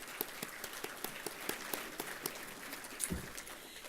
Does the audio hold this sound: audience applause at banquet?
yes